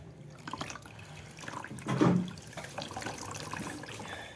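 Water wrung out of a towel during a hair spa treatment, a brief splashing trickle that peaks near the middle of the clip amid quiet room noise.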